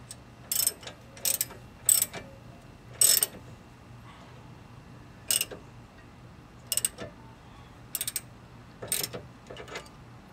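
A 17 mm wrench ratchets on a sway bar link nut of a 2006 Chevy Aveo, in short bursts of quick clicking spaced out over several seconds, close and fairly crisp against a quiet background.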